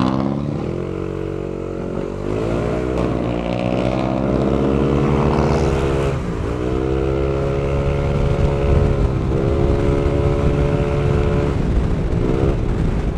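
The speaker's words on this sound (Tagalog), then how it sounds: "Sarap ng tunog ng NMAX natin ngayon ah." A Yamaha NMAX scooter engine runs steadily while riding, its loud continuous drone shifting in pitch as the throttle rises and eases, with no talking over it.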